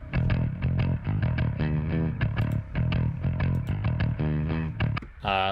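A bass track run through Studio One's Red Light Distortion plugin plays heavily distorted, gritty notes in a steady rhythmic line, loud and saturated, ending with a brief bright burst.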